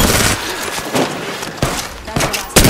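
Rapid gunfire bursts from an Apex Legends battle royale firefight, several sharp volleys in close succession with broadband cracks, loud and near, some talk mixed in.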